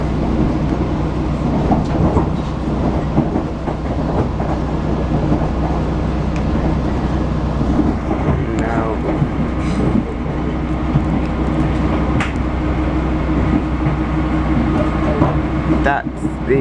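A passenger train rolls steadily along a line out of Paddington toward West Ruislip, with a constant low rumble and wheel noise throughout and a voice talking over it.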